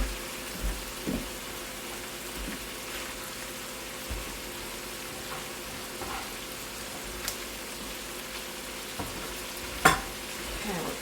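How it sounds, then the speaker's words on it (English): Vegetables sauté with chorizo in a pan for a low-carb meat stuffing for portobello mushrooms and bell peppers. A soft, steady sizzle runs throughout, broken by a few light stirring clicks and scrapes, with no talking. "Stir those up, saute those."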